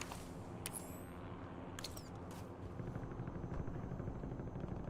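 A helicopter in the Warzone video game drones as a low steady rotor rumble that builds slightly, with sharp clicks and game effects on top.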